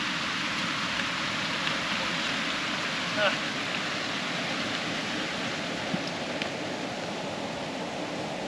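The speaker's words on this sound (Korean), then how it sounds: "갑자기 다시 날씨가 안 좋아져서 비가 오기 시작합니다." Rain setting in during a trek on New Zealand's Greenstone-Caples Track, a continuous soft hiss of falling drops at moderate level, with a couple of faint brief knocks and scrapes from nearby movement.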